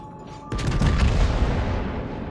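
Heavy warship guns fire in World of Warships, a single loud deep boom that rolls out into a long, rumbling tail of explosive reverberation.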